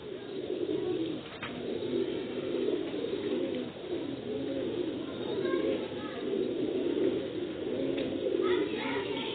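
Pigeons coo steadily in a loft, the soft throaty calls rolling on continuously and fairly close throughout, with some faint background chatter and rustling.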